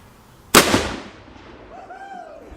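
A musket volley fired at the American Revolution Museum in Yorktown lands as one sharp, loud blast that rolls away into a fading outdoor echo, followed by a faint whistle-like tone.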